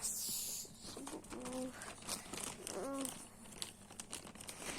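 A page ripped out of a notebook, a brief crinkling tear rising through a couple of seconds amid soft room noise, with faint voice-like tones nearby.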